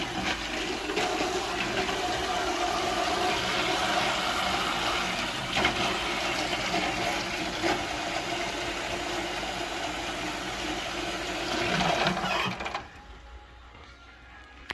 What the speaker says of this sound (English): Rinse out any type of residue or germs that might be in here before I use this pan.